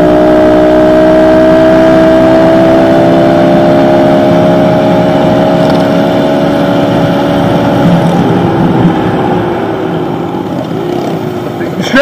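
A motorcycle engine droning steadily during a wheelie ride alongside another bike, loud and close with a sustained mid-pitched hum that holds then shifts slightly, with a voice present under the engine noise.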